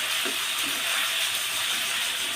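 Ginger paste fries in a pan with cumin paste and is stirred, giving a dense, continuous hiss that stays even and close, with a short bump at the very end.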